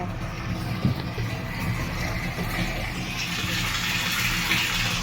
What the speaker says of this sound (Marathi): पाणी सुटले